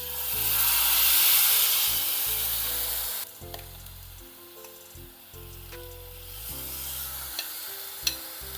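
Soaked pearl millet frying in oil with asafoetida and turmeric in a pressure cooker: a strong close sizzle that drops to a softer hiss partway, with light metallic stirring clinks and a sharp tap near the end.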